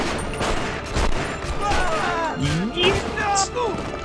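Gunfire from The Punisher video game on PS2, a quick string of shots and impacts under a busy game soundscape, with a person talking over the action.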